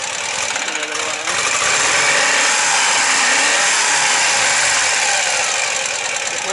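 A Soviet Ural motorcycle engine idles nearby, a loud continuous rough rumble with a dense, steady texture throughout and no clear speech over it.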